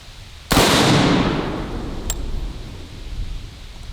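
A single sharp blast from a Typhoon F12 semi-automatic 12-gauge shotgun firing at a Firebird target, loud and close, then a decaying rumble and a brief crack from the target.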